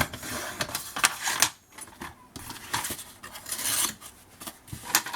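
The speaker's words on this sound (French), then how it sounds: "on coupe ce morceau." Scissors cut a piece of scrapbooking paper in a quick run of crisp, close snips and rustles, with a short pause partway through and no talking.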